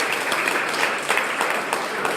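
An audience at a talk on Black men in social work gives a round of applause, a brief steady burst of many hands clapping with no voice on top.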